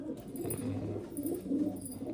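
A pigeon in a loft coos nearby in low, throaty rolling phrases that repeat across the moment, with faint background noise and no talk.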